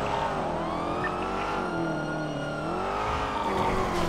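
A car engine revving steadily and close as a vehicle takes off in a police chase in GTA roleplay, the pitch rising and falling through gear changes, with no talk heard over it.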